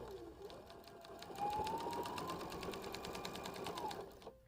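A sewing machine stitches fabric for a kitchen towel, its needle tapping in a fast, even run that swells and settles over a few seconds, close and alone.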